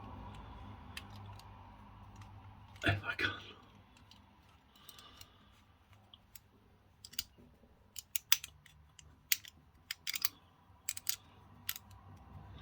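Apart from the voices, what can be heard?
shaving with Supermax diamond edge razor blade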